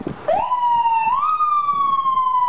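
A fire truck siren wails at a small-town parade, one loud rising and falling tone close by, with faint crowd noise underneath.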